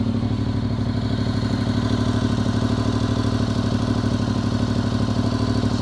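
A Honda NC750X fitted with a Black Widow 300mm exhaust idles steadily and close by, with a deep, even, burbling throb and a faint mechanical clatter running unchanged throughout.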